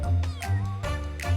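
A small kitten meows several times in quick succession, high and thin, with short repeated cries close by and nothing else competing.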